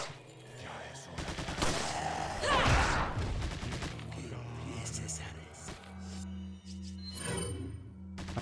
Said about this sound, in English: Oh, I forget sniper rifle is really slow to refire.